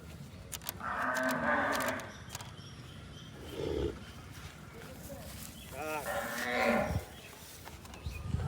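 A four-tooth farm cow lows in a village, three drawn-out moos at moderate distance separated by quiet pauses, with faint voices and rustling in the background.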